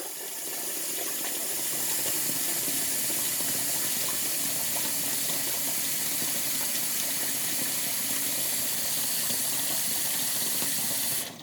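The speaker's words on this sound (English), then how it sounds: "I'm filling that bowl up with water so that it'll be easy to clean" Tap water runs steadily into a bowl, a constant close hissing gush that holds for about ten seconds before cutting off, filling the bowl to soak for cleaning.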